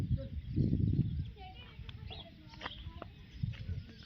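Birds chatter and call in a steady morning clamour, with moorhen clucks and chirps from the water scattered over a low background rumble and some nearby voices.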